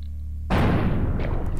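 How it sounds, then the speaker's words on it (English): A shotgun blast in the video game Buckshot Roulette: one sudden, loud boom that cuts in after a moment of quiet and rings out in a long, rumbling decay. "I'm gonna shoot him again."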